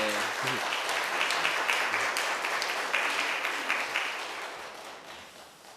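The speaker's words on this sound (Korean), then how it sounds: "일단 박수로서 환영을 좀 했으면 좋겠습니다" Congregation in a church applauding to welcome visiting guests at a Sunday service, a steady roomful of clapping that holds evenly for several seconds and then gradually fades.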